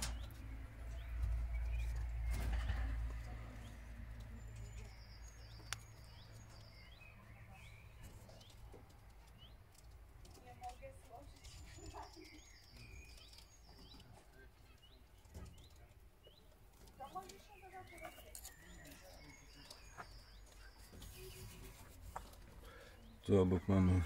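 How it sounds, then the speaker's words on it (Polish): Pigeons or doves just released into an outdoor aviary, with wings flapping loudly at first, then scattered soft coos and chirps at moderate distance, mixed with occasional rustles and handling noises. "Obiecany filmik z wpuszczania ptaszków do woliery."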